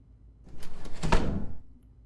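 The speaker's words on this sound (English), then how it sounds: "Am I supposed to open this door?" A door opens in the horror video game Corrosion: Cold Winter Waiting, a single close swelling creak and scrape that rises after a quiet start, peaks briefly, then fades out within about a second and a half.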